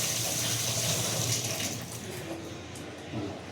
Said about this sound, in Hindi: इसे हम रनिंग वाटर में धोएंगे।